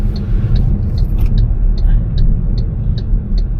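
An MG4 XPOWER electric car is pushed hard through a roundabout corner, with loud low road rumble and tyre noise filling the cabin and a faint rhythmic high ticking over the top.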